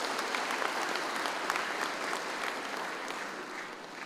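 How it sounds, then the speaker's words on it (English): Audience applause at an official cooperative event in Malaysia, a thick, even spread of clapping from a large hall crowd, sustained for about four seconds with no talking over it. "please give them a big round of applause"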